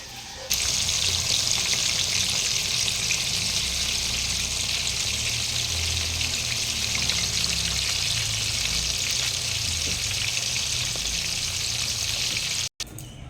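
Meatballs made as dog treats, unsalted, sizzle in a frying pan with a steady, loud crackling hiss that runs continuously until a brief cut near the end.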